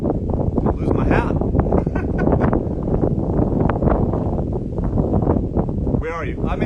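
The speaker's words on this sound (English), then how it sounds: "the wind is kicking up" Wind gusting hard outdoors in Beverly Hills, Los Angeles, roaring and buffeting the microphone almost without a break, loud and close, with someone talking through it.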